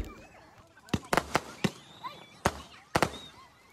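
Sharp firecracker bangs burst in an irregular sequence at a village Sankranti bonfire celebration, several loud pops clustered together with pauses between, over faint background chatter.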